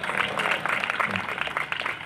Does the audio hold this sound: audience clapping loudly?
yes